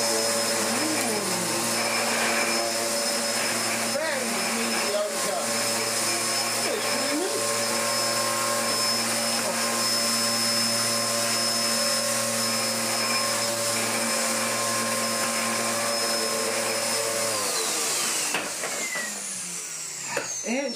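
A Hoover Dustmanager bagless vacuum cleaner with a worn brush roll runs on a rug, giving a loud, steady motor drone with a whining tone that winds down near the end.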